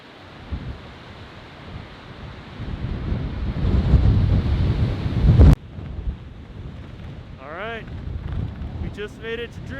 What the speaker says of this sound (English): It is extremely windy to an intense degree.